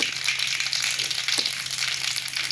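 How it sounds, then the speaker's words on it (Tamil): Mustard seeds with chana dal and urad dal splutter in hot oil, making a dense, continuous crackling sizzle up close with a few sharper pops. "கடுகு நல்லா பொரிஞ்சு வரட்டும்."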